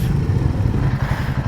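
Royal Enfield motorcycles ride in to park, their steady low engine thump loud and close throughout with no talk over it.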